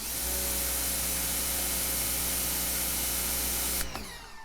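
Prymax electric pressure washer spraying through a 40-degree tip: a continuous loud rushing spray with a droning electric motor beneath, stopping sharply just before the end.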